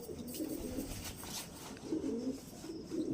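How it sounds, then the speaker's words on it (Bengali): Andhra pigeons coo softly in low, throaty repeated phrases, a few overlapping calls at close range with light rustling between them. "টোটাল এখানে সব দেখিয়ে যাবি কতগুলো পায়রা আছে সব দেখতে থাকবেন"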